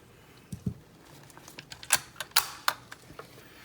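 The bolt of a Soviet M44 Mosin-Nagant rifle is worked open, giving a quiet series of sharp metallic clicks and clacks, a few soft knocks first, then several crisp close snaps.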